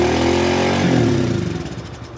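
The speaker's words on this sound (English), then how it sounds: "it should try to just rev up really high." A dirt bike engine, one that struggles to idle, is cranked and revved hard, holding a loud, close, steady drone before the pitch swings and the note starts to fall and fade toward the end.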